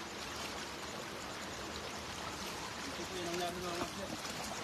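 A wide creek flows at night, with a faint, steady wash of moving water, a distant low murmur and a little background noise.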